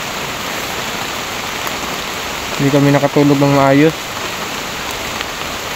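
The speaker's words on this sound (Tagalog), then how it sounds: "Umuulan na naman. So yung mga kabunso, umuulan na naman mga kabunso." Steady rain falls throughout, a dense even hiss, while a person speaks briefly in the middle over it.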